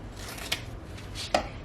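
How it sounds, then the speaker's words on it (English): Scissors trim a freshly sewn fabric seam on a boxed pillow with a zipper, giving two sharp, close snips about a second apart over a quiet room hiss, with no talking. "I'm going to trim down that seam."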